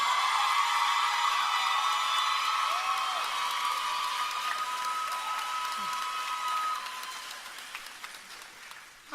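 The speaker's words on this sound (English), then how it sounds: "I think you need another round of applause." Graduation ceremony audience applauding in a steady, dense wash of clapping that holds for several seconds, then thins and fades toward the end.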